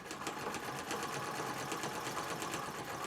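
A Singer 66 treadle sewing machine in a parlor cabinet runs steadily at an even stitching pace, its needle mechanism clattering in a fast regular rhythm with a soft whirring hum beneath, close and continuous.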